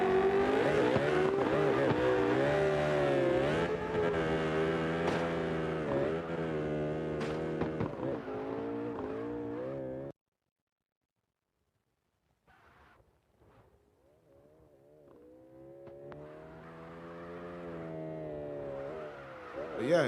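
A Toyota Supra drift car revs hard up a hill at a drifting practice session, a loud sustained engine wail with shifting pitch that cuts out abruptly, then builds again after a quiet gap.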